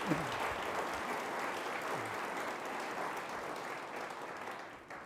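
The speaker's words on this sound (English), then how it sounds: "Let's give all of our nominators a round of applause and thank you." Sustained applause from an audience at a public service awards ceremony, a steady wash of many hands clapping for the full length without pause.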